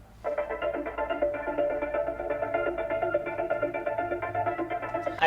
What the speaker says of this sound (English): And then I have a tonal effect which adds to the vibe too